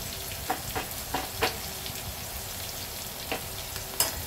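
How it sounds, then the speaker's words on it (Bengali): Panch phoron five-spice, onion and garlic fry with a soft, steady sizzle in a pan, punctuated by several light stirring clicks and scrapes; close, moderately quiet, with no talking. "যেহেতু এতে মাছের মাথা দিয়ে হবে, সেই জন্যে আমি 5 ফোড়ন দেবো আর পেঁয়াজ রসুনও দেবো।"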